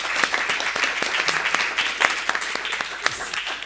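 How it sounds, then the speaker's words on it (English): Audience applause wrapping up a panel discussion on climate action after COP27, a steady patter of many hands clapping at moderate level for several seconds, with no talking over it. "I think that's definitely worth an applause"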